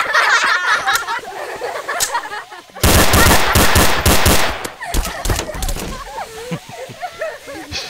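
Pistol gunfire in the video game Garry's Mod, heard as rapid bursts of loud shots, mainly in one dense stretch, mixed with speech and laughter.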